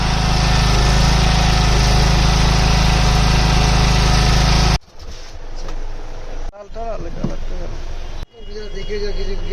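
A new generator engine runs loud and steady close by just after starting, then the sound cuts abruptly to quieter stretches where people talk.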